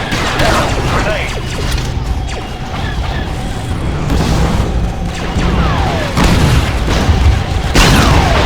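A grenade goes off during a Star Wars Battlefront 2 campaign battle against battle droids, a loud booming blast amid constant gunfire and mechanical clatter, with a further burst of noise near the end and voices calling out over the fighting.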